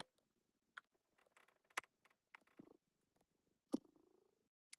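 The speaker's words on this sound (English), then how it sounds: "He's purring so hard." A cat purrs very faintly nearby, a soft low rumble broken by scattered small clicks and taps in an otherwise quiet room.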